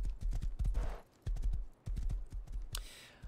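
Horse hooves clip-clopping in the survival video game Rust, a quick run of close, even hoofbeats in bursts with short pauses, and a brief whooshing noise near the end.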